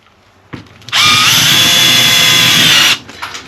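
A power drill drives two screws through plastic on a downstairs toilet, a short spin-up followed by a steady, loud whir for about two seconds before it cuts out, with no talking.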